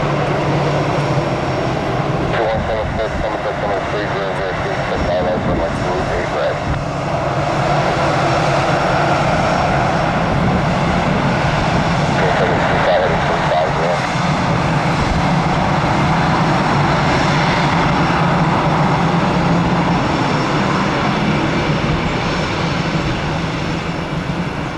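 Aircraft engines of a Global Crossing airliner roar loud and steady throughout, a continuous broadband jet rumble and whine that swells slightly midway, with no talking.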